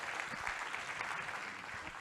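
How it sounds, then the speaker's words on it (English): A brief burst of dense audience clapping honours award recipients at a charity transparency and governance awards ceremony, steady and fairly faint in a large room for a couple of seconds. "please join me in congratulating our first 40 award recipients by giving them a big round of applause"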